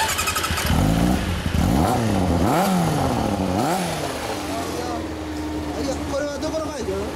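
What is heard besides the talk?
motorcycle engine revving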